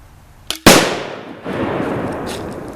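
A homemade exploding crossbow bolt, a dowel rod with duct tape fletching and a red charge, goes off in one sharp, loud bang after a small earlier click, followed by a rumbling echo and lingering outdoor noise.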